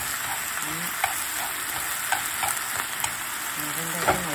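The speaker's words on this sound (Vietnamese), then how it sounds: "Cái này xào đều lên." Vegetarian noodle soup ingredients stir-fried in a hot pan, a steady loud sizzle broken by repeated scraping strokes of a utensil at close range.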